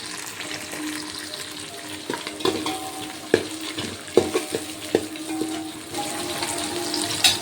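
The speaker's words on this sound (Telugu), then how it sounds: "బటర్ వేసేసుకొని మిక్స్ చేసేసుకుందాం." Butter melting in a hot pan for chicken biryani sizzles steadily while a spatula stirs through it, producing irregular sharp scrapes and taps against the pan over a continuous frying hiss, close by.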